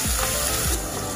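Chopped shallots hit hot oil for a Kerala-style mackerel curry with kudampuli. They give a steady, close, broadband sizzle that holds evenly through the brief moment.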